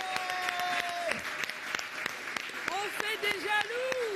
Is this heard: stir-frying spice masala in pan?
no